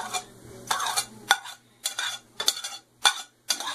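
Children stir an egg dressing mix in a bowl, producing a series of short scraping and clinking strokes in an uneven rhythm, close and moderately loud, with no talk.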